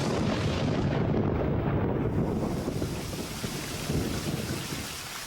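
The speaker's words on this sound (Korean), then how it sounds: "드디어 비가 오고 억수같이 쏟아집니다." Heavy tropical rain pours down steadily in a downpour, with a deep thunder rumble at the start and a dense, continuous wash throughout.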